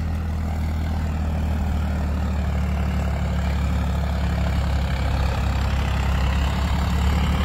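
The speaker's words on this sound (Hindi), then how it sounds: "बाकी ट्रैक्टर इतना दबके चल रहा है भाई, ये नदी की रेत है यहाँ पे" Swaraj tractor engine labouring through wet river sand after recent rain, a steady low diesel drone with a deep throbbing hum, close and continuous with no talk.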